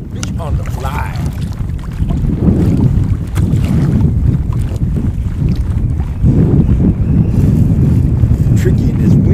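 Strong wind buffets a microphone on a fishing boat trolling flies for trout, making heavy, gusty low rumbling that rises and falls in surges over about nine seconds.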